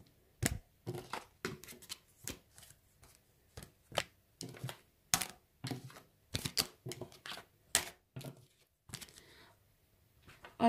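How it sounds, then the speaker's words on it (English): Tarot cards being shuffled and sorted by hand, a string of quick, sharp riffling snaps and flicks at an uneven pace, close and quiet, with no talking. "So I'm just going to sort out the cards."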